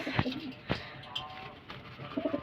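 A kept pigeon from a fancier's pair gives a few short, soft coos, faint and close, with small handling noises around them.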